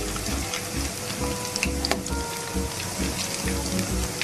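Soybean pakora frying in oil over a medium flame, a steady crackling sizzle with bursts of bubbling, close and continuous throughout.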